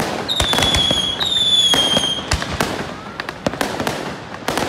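Fireworks launched over the middle of a lake crackle and pop in a dense run of sharp bangs, with high whistling streaks rising through the first half before the reports thin out.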